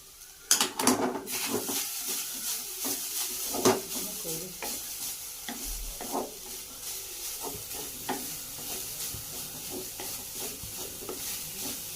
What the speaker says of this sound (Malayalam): എണ്ണ ചൂടായിട്ടുണ്ട്. നമുക്ക് തേങ്ങ വറുക്കാം.